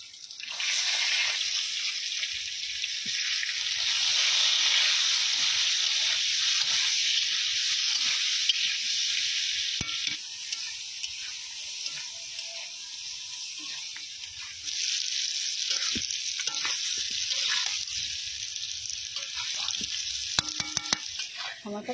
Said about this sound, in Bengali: ঠাম্মা রান্না করছে